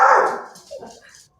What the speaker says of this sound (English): I've got the dog here to help me out.